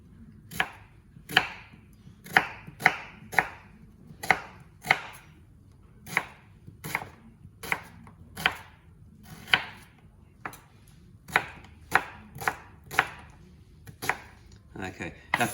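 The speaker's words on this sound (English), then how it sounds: "just going to chop up one onion. Doesn't have to be too finely chopped." An onion is chopped on a cutting board for a spicy lamb mince mixture, giving a steady run of about two dozen crisp knife strikes, close and distinct, with a faint low hum beneath.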